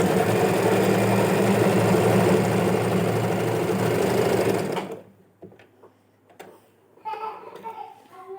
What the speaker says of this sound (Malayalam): ഇതുപോലെ അങ്ങനെ വലിച്ചു പിടിച്ചിട്ടൊന്ന് സ്റ്റിച്ച് ചെയ്തെടുക്കാം കേട്ടോ.